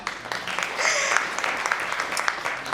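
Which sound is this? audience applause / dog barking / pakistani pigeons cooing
audience applause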